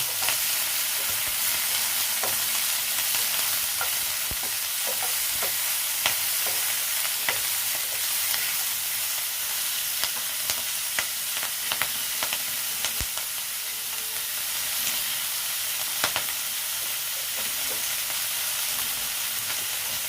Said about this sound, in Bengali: দিয়ে আস্তে আস্তে এটা আমি ভেজে নেব। একটু মজে যাবে পেঁয়াজ কলিটা।